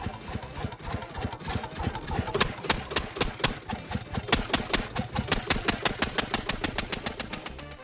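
A diesel engine rigged with a tyre, a pole and a ladder chugs steadily, its rapid knocking pulses growing sharper and more rhythmic partway through, with no voices.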